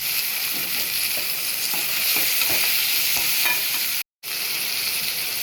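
Three tomatoes fry in a pan for a drumstick and potato curry, giving a bright continuous sizzle under repeated stirring scrapes, with a brief cut to silence near the end, no talking.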